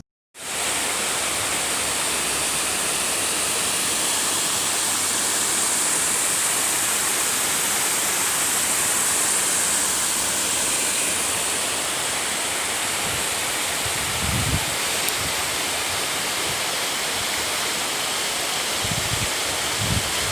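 River water diverted through a small channel toward freshwater fish ponds rushes steadily and loudly, a constant broadband flow like a small waterfall with no pauses, plus a couple of faint low bumps near the end.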